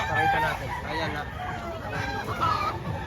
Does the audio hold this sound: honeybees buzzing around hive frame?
no